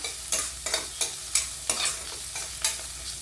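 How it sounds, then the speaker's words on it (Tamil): Onions and curry leaves being sautéed in a pan for a brinjal and ridge gourd kadaiyal, with a spoon scraping in a regular rhythm about three times a second over a low, constant sizzle. "வெங்காயம் நல்லா வதங்கி வரட்டும் வெங்காயம் வதங்கும் போதே ஒரு கொத்து கருவேப்பிலை சேர்த்துக்கிறேன் வதக்கிக்கலாம்"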